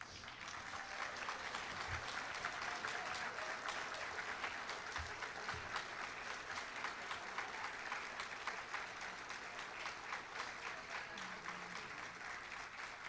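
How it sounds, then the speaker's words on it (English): Sustained applause from an audience honoring honor society inductees at a high school ceremony, a steady dense patter of many hands clapping throughout with no break. "I'd like the inductees to stand for a final applause."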